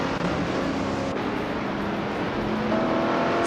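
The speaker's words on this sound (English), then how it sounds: "Scott Dixon is driving a 1971 Dodge Charger Super B." A 1971 Dodge Charger Super B racing engine roars steadily on a track, a loud continuous drone with a low rumble that barely changes over a few seconds, with no talk.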